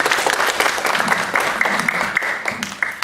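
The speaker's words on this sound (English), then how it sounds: "Can we just give one more round of applause?" Audience applause fills a graduation ceremony at Oxnard College, steady dense clapping from a large crowd with a few faint voices underneath.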